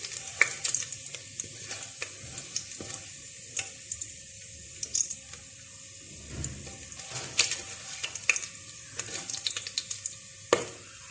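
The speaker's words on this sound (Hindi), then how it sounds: "गरम मसाला हल्के से फ्राई हो गया।" Garam masala frying briefly in hot oil in a pot for mutton yakhni pulao, a soft sizzle with scattered clicks and scrapes of stirring, close and fairly quiet, with no talk.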